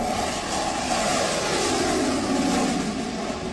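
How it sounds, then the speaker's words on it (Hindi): F-35 single-seat fighter jet flying: a continuous loud, broad roaring engine rush holding steady for several seconds, with no voices over it. "दुनिया का सबसे ताकतवर सिंगल सीटर लड़ाकू विमान है और नाम है F-35"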